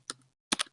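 Keyboard typing of a short folder name: two quick bursts of close, crisp key clicks separated by a brief pause, with no voices.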